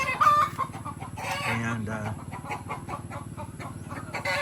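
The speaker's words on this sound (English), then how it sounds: "That scare the chickens." Chickens cluck and cackle close by in an overlapping flurry, with a short crowing call mixed in.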